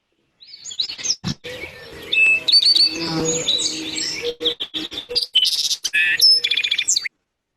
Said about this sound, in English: this is a song sparrow in general